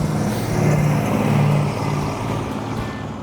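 1972 Dodge Charger engine running, a steady low rumble that swells slightly then settles, heard fairly close.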